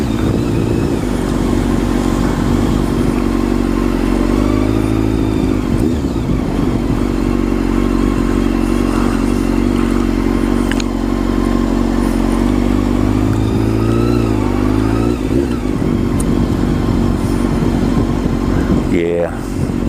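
A motorcycle engine runs close and loud on a bridge over the Rock River in Rockford, Illinois, holding a steady idle with slight pitch swells and a brief rev near the end.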